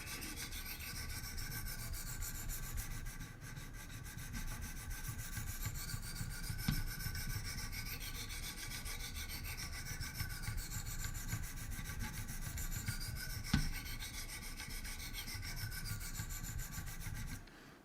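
Great Eastern Cutlery traditional knife being sharpened on Wicked Edge stones, a steady rhythmic scraping rasp of the blade drawn along the stones, close and continuous for the whole stretch.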